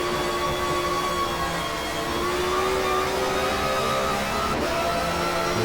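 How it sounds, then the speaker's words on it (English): A 1993 touring car in the GTR2 racing game drops to third gear for the Parabolica. A sustained, loud engine whine holds steady, then the pitch shifts and a short blip comes near the end. "Down to 3rd gear for the Parabolica."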